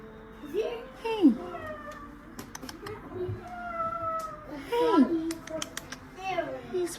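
A black cat in a cage at an animal shelter meows several times, with rising and falling cries spread across the stretch, while a child and adults chatter nearby.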